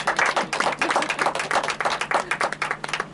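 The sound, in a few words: audience applause welcoming award recipient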